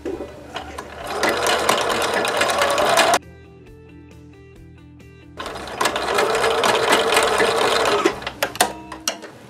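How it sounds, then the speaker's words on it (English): A sewing machine sews a straight stitch along a hem in two loud, steady, close bursts of rapid stitching, separated by a short quiet pause. "you just want to sew in the center of this, just using a straight stitch"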